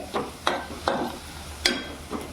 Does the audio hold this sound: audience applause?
no